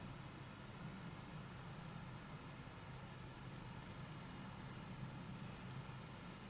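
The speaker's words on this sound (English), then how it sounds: "So that's our northern cardinal." A northern cardinal gives a string of high, thin squeaky call notes, repeated about every second, clear but light over a quiet outdoor background.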